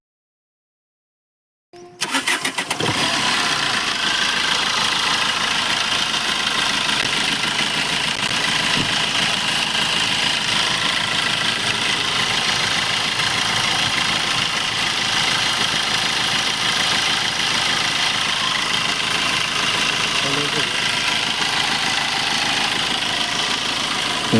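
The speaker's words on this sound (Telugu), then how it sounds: "ఇప్పుడు ఇంజన్ ఒకసారి చెక్ చేద్దామండి." A 2016 Tata Bolt diesel car idles after the engine starts from silence, settling into a steady, moderately loud mechanical hum with a faint clattering texture that continues evenly throughout.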